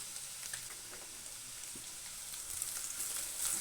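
Finely chopped garlic and ginger frying in a pan, a steady close hiss and crackle of hot oil with occasional stirring taps, growing slightly louder toward the end.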